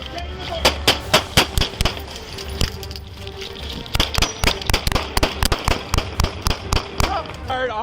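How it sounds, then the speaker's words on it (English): Police officers fire their handguns in a rapid burst of sharp, loud cracks, captured by a dashcam at a roadside confrontation, with shots coming in two clusters separated by a brief lull. "Officers discharged their firearms, and Lunt was struck"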